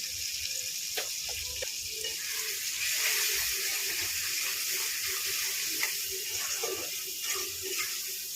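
Water is poured into a spiced cabbage curry cooking with salt, turmeric, chili powder, cumin powder and a little sugar: a soft, steady watery wash with faint clinks, fairly quiet and with no voices.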